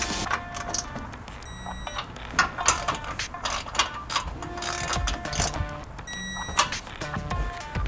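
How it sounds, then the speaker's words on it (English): A torque wrench tightening suspension bolts on a Ford F250 during a lift kit install, giving repeated quick ratcheting clicks in short bursts with metallic ringing, close and fairly quiet, with no talk. "you're gonna go ahead and torque them to 30 foot-pounds"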